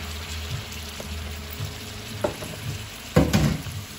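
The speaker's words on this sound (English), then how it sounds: "I'm going to go ahead and add the scallion. And also we're adding the poi bhagie and the okra." Scallion, poi bhagie and okra go into a low-heat fish curry, giving a soft steady sizzle broken by a few sharp clatters of utensils against the pot.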